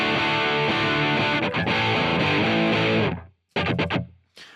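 A PRS Tremonti electric guitar played through an IK X-Vibe modulation pedal into a stereo pair of Marshall JCM 800 amps, giving a loud, swirling strummed chord passage that cuts off, followed by a few short sharp hits.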